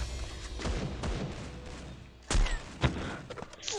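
Gunfire in the mobile shooter Free Fire, a sharp burst of shots mid-clip followed by a few scattered bangs over a busy game soundscape, fairly close and loud.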